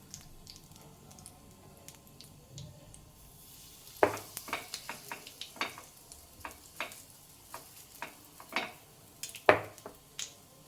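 Batter poured into a greased appam pan scattered with sesame seeds, starting a soft close sizzle broken by sharp crackling pops and clicks that come in an irregular run, with no talking.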